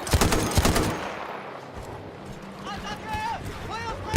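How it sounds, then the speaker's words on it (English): Anti-aircraft gun firing in the Battlefield 1 video game, a rapid burst of heavy shots at the start followed by rumbling battle noise and distant whistling, with someone talking over it. "they're getting shot down by another anti-aircraft gun"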